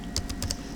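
A few quick keystrokes on a computer keyboard, crisp clicks in an uneven burst, close and fairly quiet.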